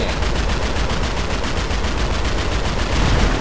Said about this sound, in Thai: แต่ว่าปืนปืนกลหนักนี่ก็ไอ้ปืนกลเล็กนี่ก็ ยิงแรงอยู่นะ ยิงแบบแป๊บเดียวอะระเบิดนะฮะ